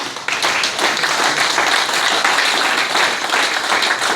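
A church congregation applauds and cheers together during a service, a dense, continuous wash of clapping that starts abruptly and holds steady and loud throughout.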